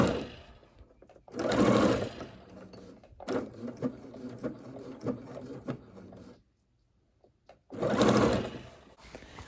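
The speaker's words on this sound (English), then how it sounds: "you're going to sew a seam down those, right sides facing each other" A sewing machine stitches a seam on fabric for a pumpkin craft, running in three loud, close bursts of rapid whirring and clatter, split by short pauses and a near-silent gap before the last run.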